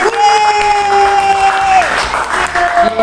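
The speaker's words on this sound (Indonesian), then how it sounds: "Kita kasih tepuk tangan dulu ya guys. Tepuk tangan." A studio group applauds and cheers after a talk-show interview, loud sustained clapping with whoops, while a bright held tone sounds over it and then drops away.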